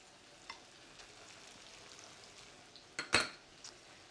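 A spoon stirs tomato paste, maple syrup and Korean gochujang chili paste in a pan, with a low sizzle, soft scraping and a few sharp clinks of utensil against metal, one loud knock near the end.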